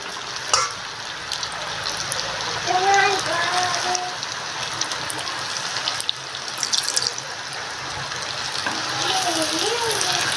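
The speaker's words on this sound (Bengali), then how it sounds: "মিডিয়াম ফ্লেমে ভাজা হবে এখন।" Sweets made with date jaggery fry in hot oil over a medium flame, giving a continuous crackling sizzle with occasional stirring knocks and faint voices in the background.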